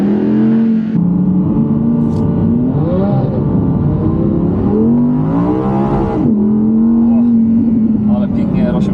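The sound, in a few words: Audi R8 driving without traction control in DriveClub video game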